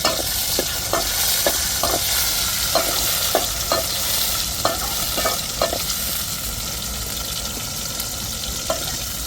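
Tomatoes and chilies frying in oil for an eggplant kuzhambu, a constant hissing sizzle punctuated by regular clacks of a stirring spoon against the pan, close up with no voices.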